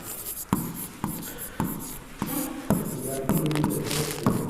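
Writing on a board during a maths lesson: a series of sharp taps and scratchy strokes as characters are formed, close and fairly loud, with a teacher's voice faintly in places.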